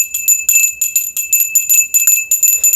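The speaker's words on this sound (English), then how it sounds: "Ring the bell." A bright bell rings in rapid repeated bursts, loud and close, about a dozen quick strikes in a steady rhythm with no talk.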